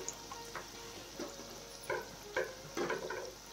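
Spinach pakoras, palak bhaji, dropped into hot oil, giving soft intermittent sizzling bursts, quiet and close in a home kitchen.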